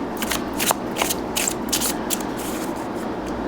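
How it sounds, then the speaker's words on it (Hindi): Tarot cards shuffled by hand in a series of crisp riffling bursts over a low background hum, close and fairly steady throughout. "चलिए आपके लिए कुछ कार्ड्स ले लेते हैं पहले।"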